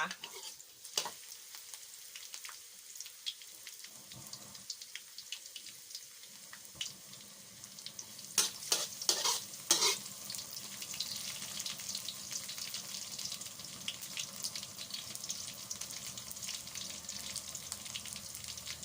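Chopped garlic frying in oil in a pan for a Thai pork belly stir-fry, a steady soft sizzle and crackle throughout with occasional clinks and stirring scrapes, fairly faint and with no talking.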